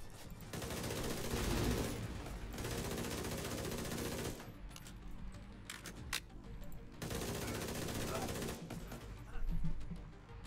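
Rapid gunfire in a video game mission, a pistol among dense bursts of shots filling most of the stretch, broken by brief pauses, with talk underneath.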